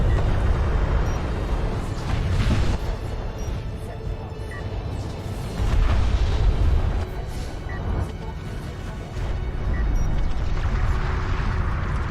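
Bombers striking ground targets in the real-time strategy game Deserts of Kharak, heavy rumbling explosions swelling and fading in repeated waves over a low continuous boom.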